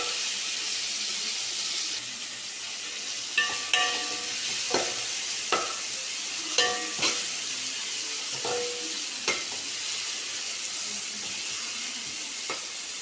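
Onions and spices for a village-style Tamil fish kuzhambu sautéing in a pan, with a steady soft sizzle under several distinct scraping clinks of a spoon stirring against the metal, close and without speech.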